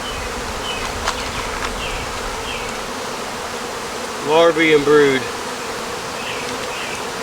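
Honeybees buzz steadily around a hive frame while a beekeeper prepares a cell builder colony, a constant close drone under brief talk.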